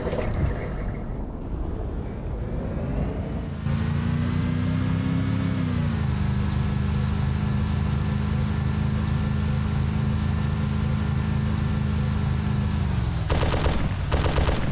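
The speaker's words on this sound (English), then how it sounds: "And we can start shooting at zombies." Gunfire from a vehicle-mounted gun in Arma 2 shooting at zombies, a steady continuous roar of rapid fire over a droning engine hum, loud and sustained for most of the stretch.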